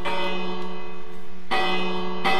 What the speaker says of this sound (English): let me just go find that bell and ring it